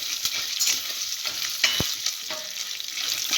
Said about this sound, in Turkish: Şöyle mısırları attıktan sonra arkadaşlar hafif karıştırıyoruz.